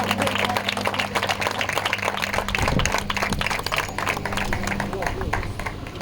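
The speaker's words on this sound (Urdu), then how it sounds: "زوردار تالیاں خدا کے کلام کے لیے" Congregation at a revival church service claps vigorously and continuously, a loud crowded roar of hands with a voice speaking over it and a low steady hum underneath.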